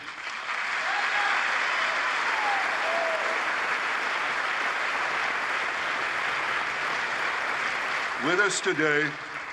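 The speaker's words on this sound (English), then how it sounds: "stand up to give him claps" Steady applause from a large audience in the United States Congress fills the space, continuing evenly throughout, with a brief voice near the end.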